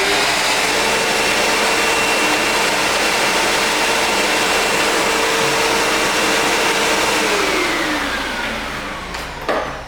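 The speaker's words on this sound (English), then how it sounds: "When you turn the vacuum on and drop or release the foot pedal, the brush roll will start to move." A Prolux upright vacuum cleaner runs with its brush roll spinning, a loud steady motor whine held close and continuous, then easing off slightly near the end with a brief clunk.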